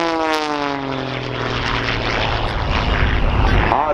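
An Xtreme Air XA41 aerobatic propeller plane at an air show, its engine droning loudly overhead and shifting pitch as it winds through a knife-edge spin, steady and close throughout.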